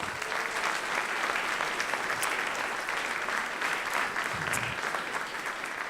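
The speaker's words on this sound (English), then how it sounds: "So please give him a big round of applause." Steady applause from a conference audience fills the whole stretch, dense clapping without pause at an even, fairly loud level.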